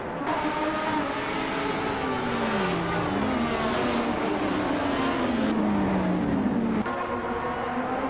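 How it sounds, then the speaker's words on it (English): A classic 1988 McLaren MP4-4 Formula One car launches hard off the starting line in a racing video game, its engine climbing through steady rising and falling pitch sweeps as it accelerates, loud and continuous, with other cars droning underneath. "Exception has shot off the line to take the lead."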